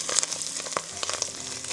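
A chickpea mixture fries in a hot pan, giving a steady close sizzle dotted with sharp pops and crackles throughout the short stretch.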